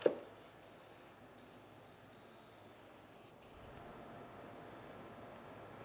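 Aerosol spray adhesive hisses onto cracked foam of a Honda XR motorcycle seat in several short bursts, then one longer continuous spray, quiet and close with no talking.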